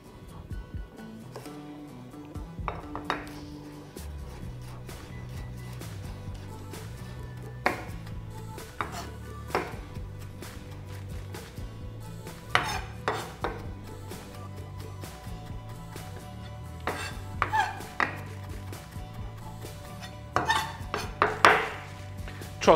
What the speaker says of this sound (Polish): Teraz posiekam czosnek.